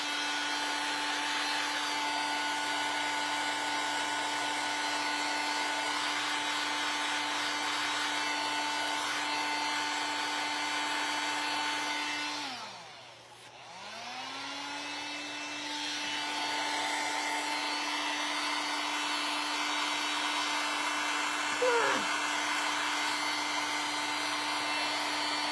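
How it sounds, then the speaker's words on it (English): A hair dryer blows with a steady high whine, briefly cuts off and winds down, then spins back up and keeps running evenly. "I used a hair dryer to dry my steps."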